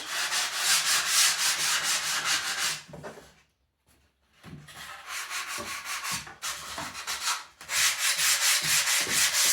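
Wooden model surface being rubbed down by hand with sandpaper before tissue-and-dope covering, steady close scratchy strokes in two long bursts separated by a brief pause with lighter scrapes.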